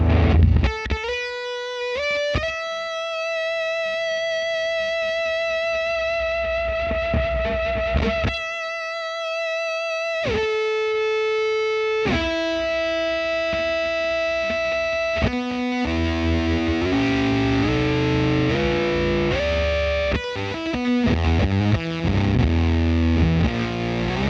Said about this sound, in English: let's try that with this infinite sustain pedal. Oh, 1176 and see what that sounds like in combination